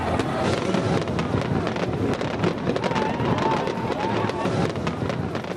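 New Year's midnight fireworks burst from Auckland's Sky Tower in New Zealand, a dense stream of crackling pops and rumbling booms. Wind buffets the microphone the whole time.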